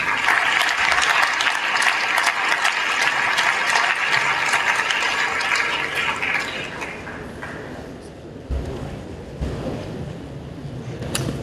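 A gala audience for the 2019 Panhellenic Scholarship Foundation awards applauds as a dense, sustained wash of many hands clapping that slowly thins toward the end, with a few louder individual claps and thumps near the close.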